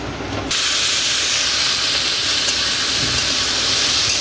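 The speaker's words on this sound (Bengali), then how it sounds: "এখন মা তেলের মধ্যে দিচ্ছে কাজু কিশমিশ" Cashews and raisins dropped into hot oil alongside frying peas, carrots and beans, setting off a loud, steady sizzling hiss that starts abruptly and holds without pause.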